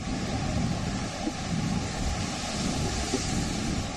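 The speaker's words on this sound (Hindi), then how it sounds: "समुद्र में उठती ऊंची ऊंची लहरें" High ocean waves during Tropical Storm Elsa produce a steady, dense roar of surf mixed with wind buffeting, continuous and unbroken throughout with no voices.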